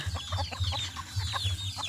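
Domestic chickens cluck close by in a lively, repeated chatter of short calls, with faint higher bird calls mixed in and no talking.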